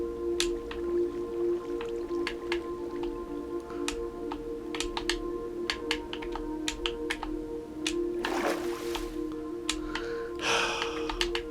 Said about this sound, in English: oh, there's water here as well. There's a water cave.